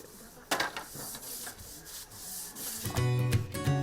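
Pieces of coconut husk scrub across bamboo tubes, cleaning off leftover bamboo dust before roasting; a close, dry rasping rub comes in uneven strokes, with a brief tonal sound at the end.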